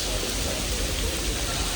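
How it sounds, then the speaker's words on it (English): Heavy rain pours onto a New York City street as a dense, steady hiss of water on pavement with no pauses. "It is raining, folks. Raining like hell, man."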